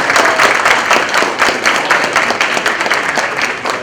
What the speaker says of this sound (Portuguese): uma salva de palmas bem forte para todos aqui